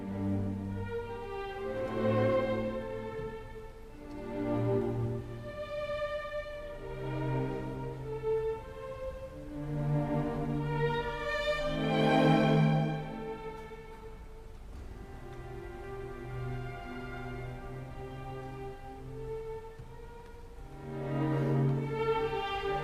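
An orchestra plays the four-note theme of Elgar's Enigma Variations, slow and quiet, with sustained string phrases rising and falling in gentle swells and no talking over it.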